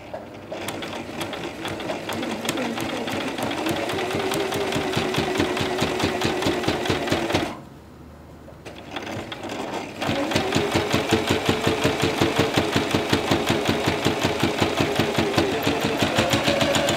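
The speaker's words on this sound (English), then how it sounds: "The foot automatically folds the fabric over, and then the running stitch stitches the fabric seam down." A sewing machine fitted with a hemmer foot stitches a fabric seam, a loud, close, rapid mechanical rattle that runs steadily, pauses briefly, then resumes at the same even pace.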